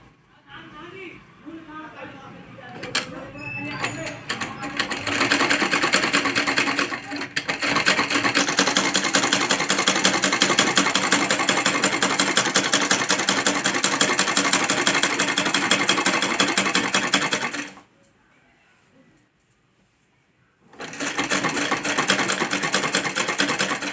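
A sewing machine stitches kurti fabric in a long, steady run, stops for a few seconds, then starts running again, close and fairly loud.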